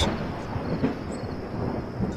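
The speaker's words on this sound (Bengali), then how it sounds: "ঠিক তখনই আচমকা গর্জন করে উঠল আকাশ" Sudden thunder roars across a stormy night sky, a loud continuous low rumble with rain-like hiss, no voices.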